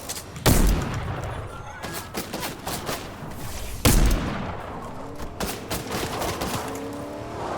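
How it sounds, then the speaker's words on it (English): Gunfire in the video game Fortnite, with two heavy, close shots standing out over scattered bursts of rapid shooting and game noise, loud and continuous throughout. "Someone's shooting me."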